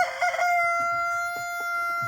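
A rooster crows loudly nearby, a long sustained call held for about two seconds.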